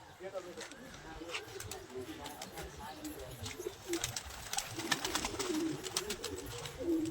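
Racing pigeons being released coo softly in low warbling calls amid outdoor noise, with sharp clicks and rustles scattered throughout and someone talking faintly in the background.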